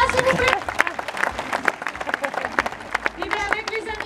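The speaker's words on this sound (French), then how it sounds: "Un grand applaudissement pour Fatima, s'il vous plaît" Audience applause at a sea lion show in an amusement park, scattered claps mixed with crowd noise and voices, moderately loud, with a speaking voice rising near the end.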